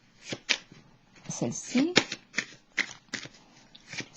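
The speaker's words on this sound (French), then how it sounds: "Est-ce que je devrais piger d'autres cartes ici?" Tarot cards drawn and handled, crisp shuffling and sliding snaps repeating in quick bursts close by, with a French-speaking voice talking over them.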